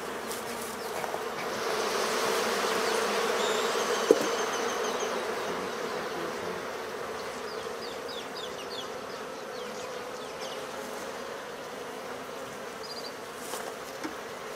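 A dense, continuous drone of many bees swarms over a large honeycomb holding worker and queen cells during a rescue, loud and even, with a few sharper buzzes flying near.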